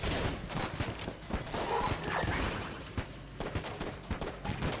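Rapid gunfire from the bullet-hell game Enter the Gungeon, dense overlapping shots with in-game effects in a steady busy stream, no voices.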